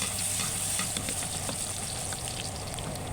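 Blended garlic frying in a little oil in a pan, giving a steady close sizzle with faint stirring scrapes throughout and no talk.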